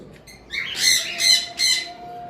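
Caged green Fischer's lovebirds call nearby, three or four sharp, high squawking chirps in quick succession over a faint steady background hum.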